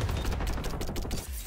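Dense, rapid gunfire from the video game XDefiant, a loud continuous barrage of closely packed shots with no pauses.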